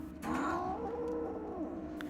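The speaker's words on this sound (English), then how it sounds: "This stray cat was very sick," A sick stray cat in an Istanbul snowstorm gives one drawn-out, wavering meow lasting nearly two seconds, fairly quiet and close, with no other sound around it.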